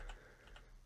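A few faint computer keyboard keypresses, a couple of soft clicks spaced apart, quiet against a low background hum.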